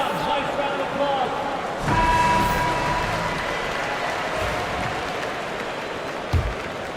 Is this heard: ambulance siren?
no